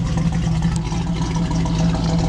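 1970 Chevy Camaro Z-28 with an LT-1 350 V8, crossover muffler and fresh exhaust system, idling with a steady, throaty low rumble, close and continuous.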